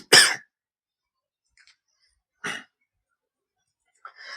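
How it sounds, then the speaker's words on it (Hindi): A single sharp cough, followed by quiet and then a softer second cough with a faint throat noise near the end. "थोड़ी खांसी आ गई।"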